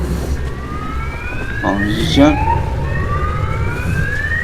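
Rising and falling ambulance sirens wail in the background of the video game Metro: Last Light while a person briefly speaks over them.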